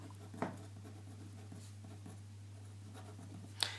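A pen or marker writes on a board during a trigonometry lesson, faint scratchy strokes with a couple of sharper taps, over a steady low mains hum in a quiet room.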